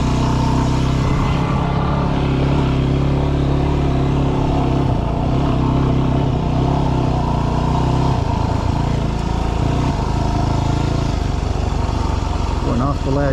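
A side-by-side utility vehicle drives a rocky mountain road on Elephant Skin Road and Smith Mountain Road, its engine droning loudly and steadily throughout, with rumbling variations as it moves over the rough ground.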